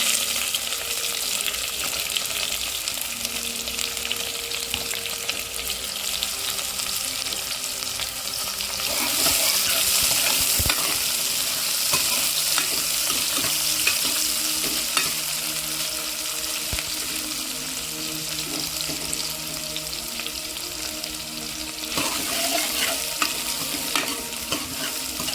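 Chopped onions frying in a pan for samai millet biryani give a steady, close sizzle with repeated stirring scrapes throughout, growing louder midway, with no one speaking.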